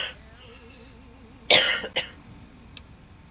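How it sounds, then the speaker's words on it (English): A deliberately fake cough sounds once, short and close, with a second smaller cough burst right after over quiet background game audio. "The weird thing is that's a completely fake cough."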